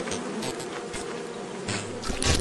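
Swarming bees buzz in Lethal Company, a dense, continuous drone that stays loud throughout and swells stronger near the end, with no talking over it.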